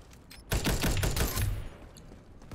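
Rapid automatic gunfire in the online shooter Ironsight, a dense burst of shots that goes on for about a second, loud and close, with a few scattered shots before and after.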